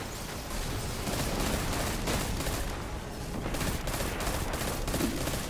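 Dense, continuous gunfire from the video game Destiny 2 during a strike, a loud unbroken barrage of rapid shots and blasts filling the whole stretch with no talk over it.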